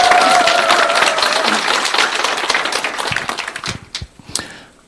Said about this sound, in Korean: 자, 그럼 우리 다 같이 한번 큰 박수 치면서 오늘 세미나 진행하도록 하겠습니다.